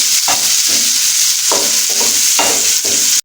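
Raisins frying in hot oil in a pan for Kabuli pulao, with a steady loud sizzle and repeated scraping stirs of the spoon at regular intervals.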